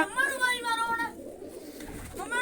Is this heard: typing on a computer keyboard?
no